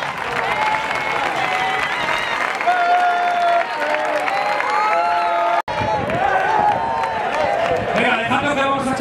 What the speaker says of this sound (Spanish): ¡Fuerte el aplauso para todos vosotros!